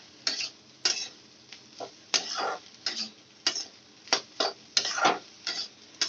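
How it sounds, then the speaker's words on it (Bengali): Boiled potatoes and vegetable stalks fry over a high gas flame for a fish chorchori, with a series of short, separate stirring scrapes and sizzling bursts close by and brief pauses between them. "এ সময় আমি গ্যাসের ফ্লেমটা একটু বাড়িয়ে দেব আর ভালো করে ভেজে নেব"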